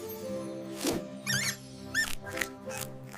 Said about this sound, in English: It's a mouse.